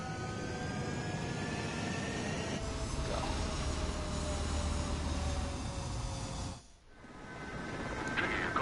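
Fighter jets in the Ace Combat 7 video game rumble and roar steadily on the runway during takeoff. A whine sweeps in near the end, and a brief dropout cuts the sound for a moment.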